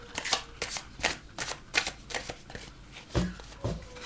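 Tarot cards shuffled by hand in quick riffling bursts, close and fairly loud, with short pauses between runs.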